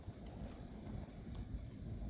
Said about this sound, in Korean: 이제 북서풍이 불어오는 모양이다. 바람도 세지고 점점.